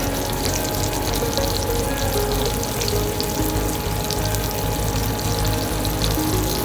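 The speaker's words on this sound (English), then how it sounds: "We have olive oil going over here, and we're gonna pan fry the salmon" Salmon pan-frying in hot olive oil gives a steady, dense sizzle that holds at an even loudness from start to finish, close up and with no talking.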